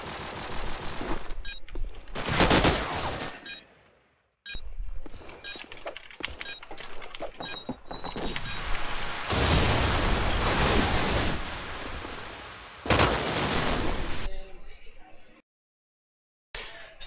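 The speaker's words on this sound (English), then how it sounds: "Replant with a lovely shot into Destin." Rapid gunfire from a competitive first-person shooter match at a LAN playoff, with repeated bursts and single shots clustered in loud sections, separated by brief drops to near silence, under a caster's commentary.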